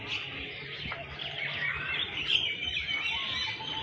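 Birds chirp at the TMII bird park, a dense, continuous twittering of many calls at moderate distance, with no talk.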